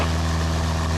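A small aircraft's engine at full throttle for takeoff, a steady, loud, droning roar with a strong low hum and no voices.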